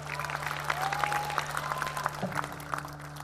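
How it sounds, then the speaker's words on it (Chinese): A large studio audience applauds dancers on a street dance competition show, a dense, even wash of clapping with a faint sustained tone underneath. "再次把我们的掌声送给我们可爱的舞者。"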